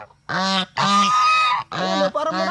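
Loud, nasal goose honks in four bursts, the second long and drawn out, close by with no talking.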